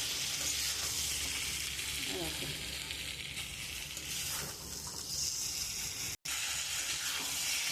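Spice paste for a rita fish curry sizzles and crackles in a pan while being stirred and scraped, a dense steady frying sound with a brief dropout near the end; a voice may murmur faintly underneath.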